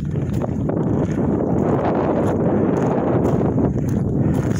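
Continuous wind at Smith Rock roars across the microphone, a dense, unbroken low rumble with faint rustling on top.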